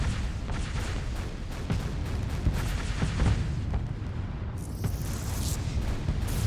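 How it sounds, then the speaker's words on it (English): A heavy ship-mounted gun booms repeatedly in a video game naval battle, deep rumbling blasts and rolling artillery thuds layered over a constant low roar, loud and continuous. "And of course the comets with the big gun"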